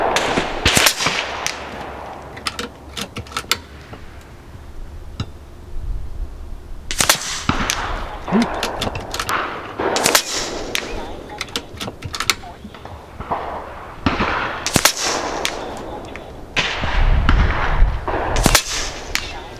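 Kalibrgun Cricket airgun firing .253 35-grain slugs at 100 yards outdoors, sharp cracking shots spaced every few seconds with clicks and handling noises between, some shots landing under someone talking.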